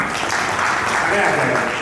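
Dense, steady applause from the audience at a Mahatma Phule Samata Parishad awareness camp in Nashik. It fills the whole short stretch at an even level, with voices mixed in.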